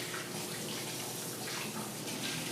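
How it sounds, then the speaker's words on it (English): A kitchen sink tap runs steadily as hands are washed beneath it, producing a continuous, even splashing hiss of water that holds at a moderate level without pauses. "I'm going to wash my hands for"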